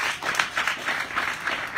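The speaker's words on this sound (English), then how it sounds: "Let's give them a round of applause." A short burst of steady applause from a crowd at a women's alliance event, dense clapping swelling and fading slightly, with no voices over it.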